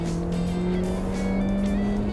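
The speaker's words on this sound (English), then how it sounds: "the exhaust gets throatier" A car engine with a bi-scroll turbo and a throaty exhaust holds a loud, steady, close drone with a sustained rumbling tone, without audible talk.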